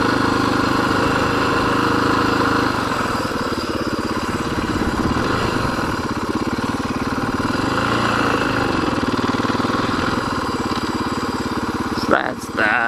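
Motorcycle engine running steadily and loud throughout, with a pitch sweep as the bike pulls off and rides away during a motorcycle safety class, a brief knock near the end.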